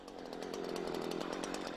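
Chainsaw running steadily during tree felling, a continuous loud buzzing whine with fast engine pulsing, close up and alone for under two seconds.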